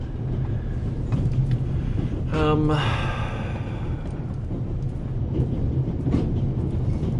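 A video game train runs with a steady, dense rumble of wheels and engine throughout, with one brief tonal hiss or whistle-like burst partway through.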